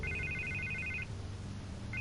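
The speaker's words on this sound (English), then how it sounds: "I can't get the phone to stop ringing." A telephone rings in bursts of bright electronic trilling, one long ring followed by a pause and the start of another, steady and fairly close with no talking.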